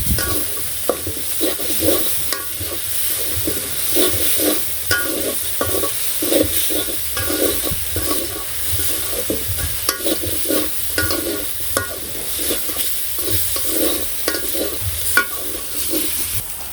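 Fish frying in oil with a little turmeric in a pan during village cooking, with a steady loud sizzle and recurring scraping stirs throughout, no talking.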